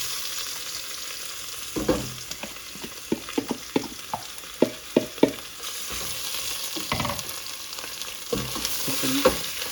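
Chicken saag curry sizzles steadily in a pan while a spoon stirs it, knocking against the pan in sharp close scrapes and taps at an uneven rhythm.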